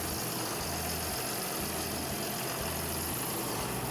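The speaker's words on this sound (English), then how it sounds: "The powerful roar of the Deutz-Fahr Agritron 7250 TTV engine echoes as it pulls the heavy-duty truck across the road." A Deutz-Fahr Agritron 7250 TTV tractor engine pulls a heavy-duty truck along a road, a steady low diesel rumble with a pulsing idle-like throb running unbroken and fairly close throughout.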